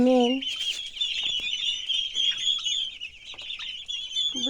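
A dense chorus of turkey poults peeping constantly at a high pitch, close by and steady throughout.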